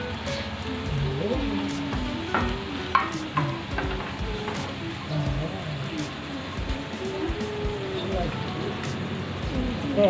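Garlic sizzles in a hot pan while a utensil scrapes and stirs it, steady frying crackle with repeated clinks and knocks, under someone speaking.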